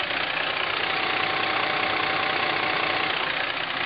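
A Cummins ISX diesel engine idling in a 2005 International 9200i semi truck, a steady, close, loud rumbling idle with an even knocking clatter that holds constant throughout, with no talk.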